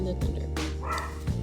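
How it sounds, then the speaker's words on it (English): A female dog frightened by rain and thunder barks and yips in short bursts, close and fairly loud, mixed with a voice talking over it. "Don't mind my dog, guys, please. She's scared of the rain and the thunder."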